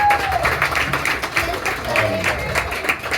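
A crowd claps for Sydney Chandler in a moderately loud, uneven burst of applause, with voices and cheering mixed in throughout.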